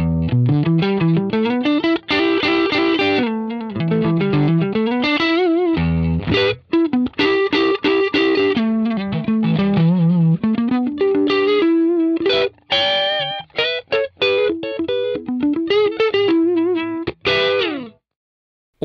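Distorted electric guitar through an Axe-Fx III model of a 1960s Fender Deluxe amp with an Oxford speaker plays a melodic riff in a warm vintage tone, steady and fairly loud with brief gaps between phrases.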